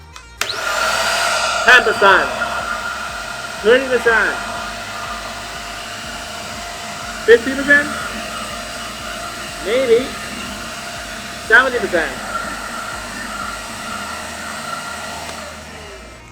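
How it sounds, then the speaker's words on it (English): An electric aquarium vacuum runs steadily during a water change, a continuous motor whir with a harmonic hum, while someone talks intermittently over it. "Maybe this handy dandy vacuum is not that strong enough"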